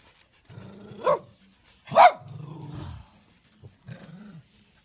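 A dog barks in short bursts at home, two sharp loud barks followed by lower grumbling growls and a few softer yips, close to the listener with no talk.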